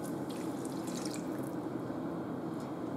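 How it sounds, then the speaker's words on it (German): Water, 150 grams of it, poured into a Thermomix TM5 bowl while making zucchini rolls, a steady close pour with gentle splashing and trickling throughout, no voices. "Jetzt kommt auch schon der Rest dazu und das wären 150 Gramm Wasser"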